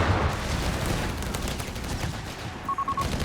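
Dense, continuous gunfire in a Company of Heroes 3 battle, with LMG machine-gun bursts among rolling rifle and small-arms fire filling the whole stretch, loud and unbroken with no talking.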